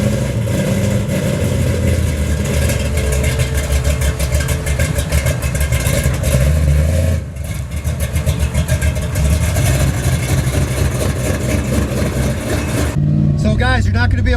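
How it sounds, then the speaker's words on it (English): A 1969 Plymouth Road Runner engine roars continuously at close range, loud and rumbling with throaty revving throughout, briefly dipping before surging again. "It's such a loud car"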